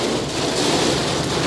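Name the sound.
heavy rain pouring during Hurricane Ian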